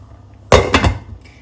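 A metal lid is set onto a pot of cooking bottle gourd, a single loud clank followed by a short rattle as it settles, close by in a quiet kitchen.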